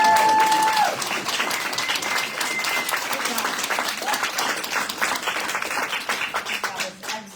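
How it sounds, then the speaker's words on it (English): Audience at a panel on Indigenous women resisting extraction gives a panel speaker a sustained round of applause, steady dense clapping throughout with a brief tone at the start. "I just want to give an extra applause since this is her first time speaking on panel."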